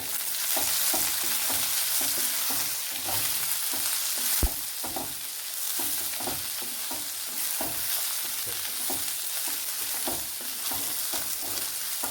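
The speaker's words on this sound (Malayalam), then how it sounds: "ഇതിലേക്ക് ഇനി ഈ സവാള ചേർത്ത് കൊടുക്കുക." Sliced onions sizzle steadily in a hot pan, close and continuous, with a spoon scraping and stirring in a regular rhythm throughout.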